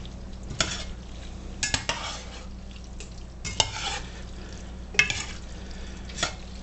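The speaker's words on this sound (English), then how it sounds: "Now we just gotta stir it all up" Drained macaroni is stirred in a pot, with a spoon scraping and clanking against the metal in irregular bursts between quieter pauses, close and alone.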